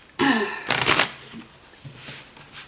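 Tarot cards shuffled by hand, two quick riffling bursts close up, then softer shifting and tapping of the deck.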